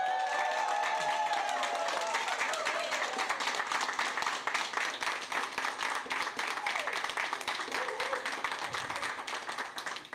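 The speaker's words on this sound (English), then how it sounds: "Now you hear that clapping," Audience clapping at a federal budget announcement on support for workers, a sustained round of applause that starts full and slowly thins out toward the end, with no voices over it.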